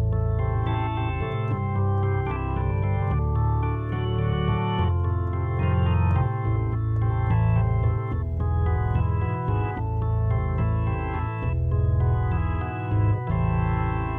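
A piano plays the House of the Rising Sun chord progression in a steady flowing arpeggiated pattern, close and full for over ten seconds, with no talking.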